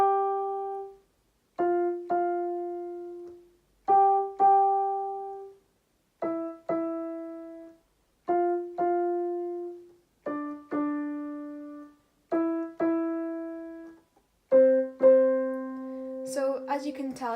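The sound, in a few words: piano playing Riverdale theme melody in octaves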